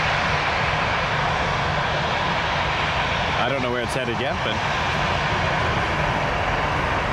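A 22-year-old Boeing 737-800 jet airliner lines up on runway 23 at Toronto Pearson, its engines giving a steady, broad roar throughout while someone talks over it.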